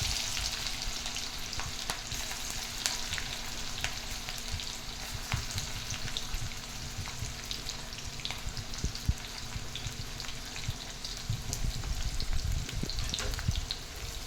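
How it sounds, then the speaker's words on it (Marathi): Onion hits hot oil in a kadai already crackling with cumin and mustard seeds, giving a dense, steady sizzle peppered with small pops and occasional stirring clicks, close and continuous, no voices. "इथे कढईमध्ये आता मी कांदा टाकून घेत आहे"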